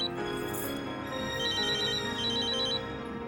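A telephone rings indoors with two bursts of a bright electronic trill over a steady low background hum, with no talking.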